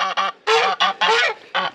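Several geese honk loudly and close by in a rapid series of harsh, brassy calls with short gaps, near a farmyard where chickens are also being fed.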